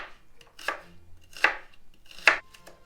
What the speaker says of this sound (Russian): приступим к нарезанию лука. Лук будем резать просто перьями